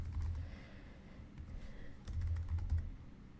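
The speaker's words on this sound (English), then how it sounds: "I'll just type in test course." Quick bursts of typing on a computer keyboard, soft clustered keystrokes in two short runs separated by a pause, close and quiet with no talking.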